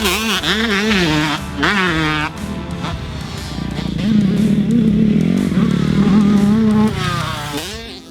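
A Pro Circuit built Yamaha YZ125 two-stroke dirt bike, fitted with a VForce reed block and an aftermarket silencer, revs with rising and falling buzzy blips, then holds a rough, raspy idle, loud and close.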